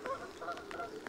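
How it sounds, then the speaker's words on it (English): Canada geese landing on a pond give faint, distant honks, several overlapping calls in quick succession over soft background noise. "Canadian geese."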